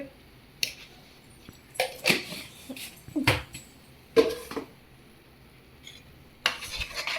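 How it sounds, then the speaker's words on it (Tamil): Three eggs with a light pinch of salt being stirred in a bowl, heard as scattered soft clinks and scrapes of a utensil against the dish, in short irregular bursts with quiet gaps between. "நல்லா முட்டையை மட்டும் தனியாக நல்லா கிண்டிக்கணும்"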